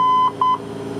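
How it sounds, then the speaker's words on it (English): An ADF Morse code station identifier sounds in a flight simulator: two short, clear steady tones in quick succession, the second a longer dash, over a low background hum. "after you select the ADF you are going to hear the Morse code"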